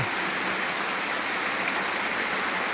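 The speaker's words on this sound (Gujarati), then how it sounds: "કેવો વરસાદ થાય એ બારસ બારીસ બારીશ થાય છે" Heavy monsoon rain pours steadily on a village in Chhota Udepur district, a dense, unbroken hiss of falling water with no voices.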